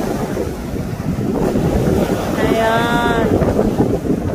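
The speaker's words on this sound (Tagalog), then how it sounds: "Lakas ng hangin. Tinatangay sila ng hangin." Strong wind blows at the sea, a continuous broadband roar buffeting the microphone over surf. A person speaks briefly, and a faint warbling tone rises midway.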